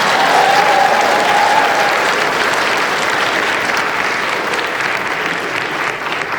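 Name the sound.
audience applause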